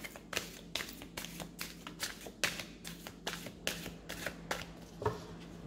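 Tarot cards being shuffled by hand, a steady run of crisp riffling slaps and taps about twice per second, close and clear over faint background hum.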